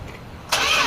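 A 1978 Dodge W150 Power Wagon engine cranks and catches, cutting in abruptly halfway through with a loud, broad roar after a quiet low rumble.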